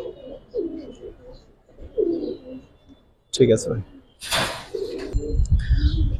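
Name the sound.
pigeons cooing in a loft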